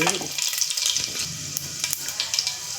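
Garlic sizzling in hot oil in a pan while masoor amti is cooked, a steady crackling hiss throughout with small pops, and someone talking faintly over it.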